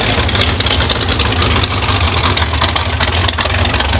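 A rear-engine dragster's engine runs steadily, loud and close, a dense low rumbling drone with a rough rapid pulse that holds throughout with no voices.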